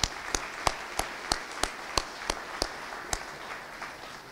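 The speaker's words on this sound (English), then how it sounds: "I want to stop and just give all of you a round of applause for taking that time" Audience applause at a Winston-Salem community address, heard as a few sharp, rhythmic claps standing out over a soft, steady wash of clapping, moderately near, with no talk.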